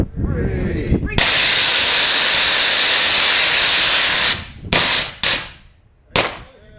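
A small rocket motor fires with a loud, roaring hiss for about three seconds, then cuts into a few sharp, separate bursts. Voices are heard briefly just before ignition.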